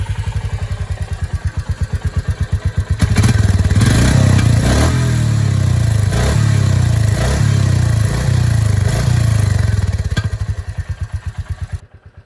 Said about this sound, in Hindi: पहले इसका एग्जॉस्ट नोट हम सुन लेते हैं